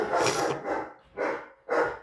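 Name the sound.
dog barking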